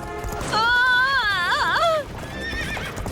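A cartoon horse lets out a loud, drawn-out whinny with a wavering pitch that trails off, followed by quieter background sound.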